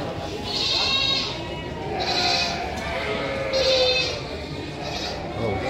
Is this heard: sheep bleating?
yes